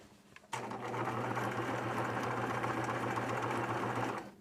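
A sewing machine stitches through jeans, starting abruptly after a short pause and running in one continuous, even mechanical whir before stopping near the end.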